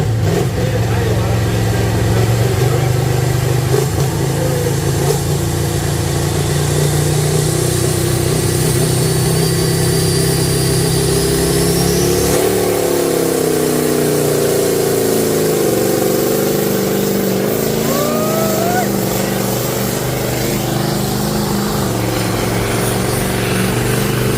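A V8 Massey Limited Pro Stock pulling tractor roars continuously at high revs during a tractor pull, its pitch shifting and dipping midway, loud and close with a crowd or announcer faintly beneath.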